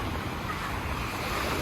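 Ocean surf rolling onto a beach in Bali where people are learning to surf, a steady, loud wash of breaking waves with wind buffeting the microphone throughout.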